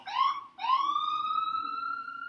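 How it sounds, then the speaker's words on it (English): A siren wails loudly, rising in pitch, cutting off briefly, then sweeping up again into a long sustained tone with no voices. "Yeah, so I'm going to need a siren."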